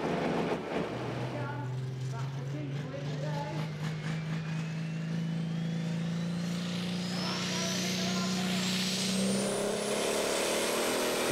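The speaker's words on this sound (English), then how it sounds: "Again, another flying start. All the tractors in this pull-off are doing so well." The diesel engine of the Diesel Dragon pulling tractor roars at the Great Eccleston Show 2018 tractor pull, holding a heavy drone while a high turbo whine climbs steadily in pitch under announcer commentary.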